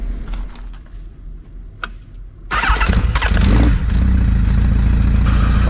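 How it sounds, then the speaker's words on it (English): A four-carburetor engine cranks and starts with a sudden loud catch, then is revved gently a few times before settling into a steady, loud idle close by, after quiet rattling beforehand. "I just started up, look, I just sort of gently revved it a little bit just so the engine's like idling like normal."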